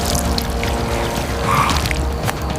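Water and wine pour in a steady liquid stream, continuous and fairly close, with faint trickling and splashing throughout and no voices.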